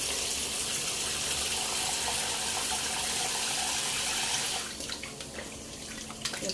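Tap water runs steadily into a sink while raw chicken is washed for biryani, a continuous close splashing hiss that eases slightly near the end with a few small knocks.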